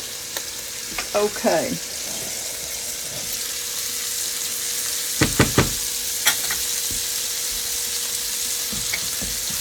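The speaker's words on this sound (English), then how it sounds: "We're going to let these saute just a little bit in that butter and the goody stuff there" Food sautés in butter in a pan for Tuscan chicken, a continuous close sizzle with clusters of utensil clatters and stirring scrapes; one short spoken word comes early.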